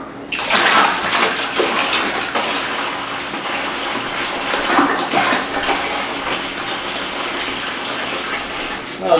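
Bottled water pours steadily into containers of sweet tea mixture while brewing kombucha, a continuous close gushing and splashing that runs the whole time with a slight swell near the end.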